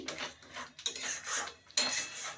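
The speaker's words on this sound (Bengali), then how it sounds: "এটা সামান্য নাড়তে হবে।" A cashew and poppy seed spice mix stirred in a pan for butter paneer, heard as a few short bursts of spoon scraping and clinking against metal, fairly quiet and close, with brief pauses between strokes.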